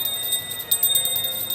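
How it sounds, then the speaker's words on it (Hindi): A handheld Garuda bell rings at a home aarti, a bright, steady metallic jingle of rapid strikes that grows a little louder partway through, close and alone. "हमारे हाथ में जो गरुड़ घंटी है उसका नाद प्रारंभ हो जाना चाहिए"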